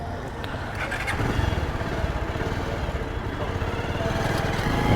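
A ride-hailing motorcycle engine starts up and settles into a close, rough, throbbing idle that continues steadily to the end.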